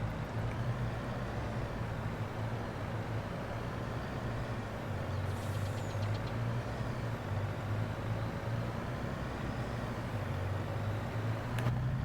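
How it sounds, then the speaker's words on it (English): Steady diesel engine of a farm vehicle in Farming Simulator 22, a continuous low rumbling drone that holds for the whole stretch with a slight shift in pitch midway, close and even, no talk. "Diesel sounds great."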